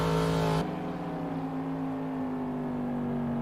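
A race car in a racing video game holds a steady, high engine whine as it starts a fresh lap down the front straight at CTMP, with a sudden shift in pitch early on and no talk.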